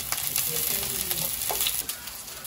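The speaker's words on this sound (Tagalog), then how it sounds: "Igigisa natin siya." Garlic and onion sauté in a hot pan with a close, steady sizzle and scattered crackles, plus light stirring scrapes and a utensil tap.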